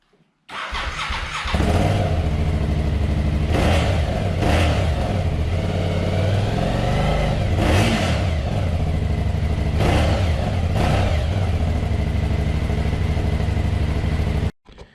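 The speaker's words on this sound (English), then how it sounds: "I think this bike has a wonderful exhaust note." An Aprilia Shiver 750 with a V-twin engine and dual rear exhaust idles close and loud, then blips the throttle in several sharp revs that rise and fall before the engine cuts off.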